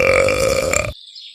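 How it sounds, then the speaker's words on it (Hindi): A loud, drawn-out cartoon burp fills most of the second, rich and buzzy, then cuts off abruptly, leaving a thin high tone trailing behind. "डिकार की आवाज काफी तेज थी।"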